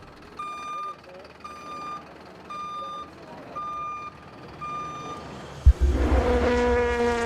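A tow truck at the 24 Hours of Le Mans sounds a series of evenly spaced reversing beeps, then a sharp thump and a roaring engine take over near the end, with a voice talking beneath.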